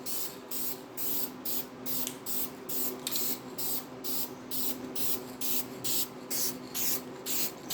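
Aerosol spray paint laying a final coat on a 1968 Pontiac GTO 400 oil filter housing, close hissing bursts in a steady series of short pulses.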